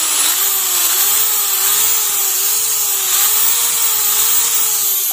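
A power drill, plugged into a wall socket during a home electrical demonstration, runs at steady high speed for about five seconds, its motor whine loud, close and continuous with no talk over it.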